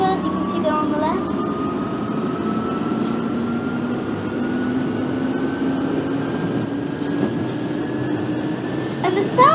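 Simulated 1992 stock train on the Central Line in the OpenBVE train simulator game, a steady motor whine slowly rising in pitch over a continuous rolling hum, with someone talking at times.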